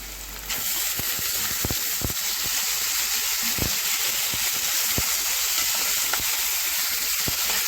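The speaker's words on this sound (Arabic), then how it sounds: "دلوقتي بقى هبتدي انزل بالكبده" Chicken liver hitting a pan of browned onions sets off a loud, continuous sizzle close by, with scattered sharp pops and crackles over the hiss.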